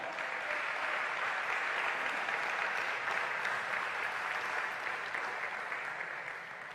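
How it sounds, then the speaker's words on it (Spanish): A church congregation claps steadily and loudly through a sermon break, a dense sustained wash of applause that thins slightly toward the end. "Dele un fuerte aplauso al Señor"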